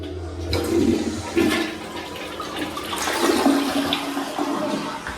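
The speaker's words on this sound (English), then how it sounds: "now I'm going to flush the toilet for you guys" A toilet flushing in a vacation cabin bathroom, a loud close rush of water that surges, dips and swells again before settling into a steady refill.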